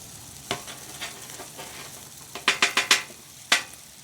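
Hamburger steaks sizzle in a pan with ghee, a steady quiet frying hiss broken by several sharp spatters and crackles clustered near the end.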